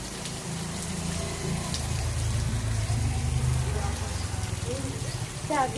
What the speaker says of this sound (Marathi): लय जोरात पाऊस सुरू आहे